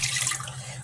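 Warm water splashes into a mixing bowl in a short, steady hissing pour, fairly close and alone.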